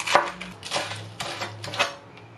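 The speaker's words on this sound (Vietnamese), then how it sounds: "Xà lách mình cũng cắt nhỏ ra cho dễ ăn." A knife chops lettuce finely on a board, about half a dozen crisp, evenly spaced cuts ringing close and clear without any voices.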